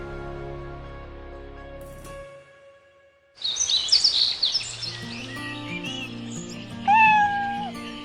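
Cats meow and birds chirp at a neighborhood spot in Guangzhou where locals come to pet the cats; a drawn-out meow fades, then close tweets and calls overlap with a louder cry near the end.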